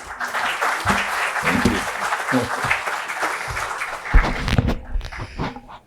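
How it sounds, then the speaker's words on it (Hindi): Audience applause welcoming retired General V.K. Chaturvedi at an autobiography launch ceremony, steady dense clapping with a voice speaking across it before it tapers off. "तालियों से स्वागत"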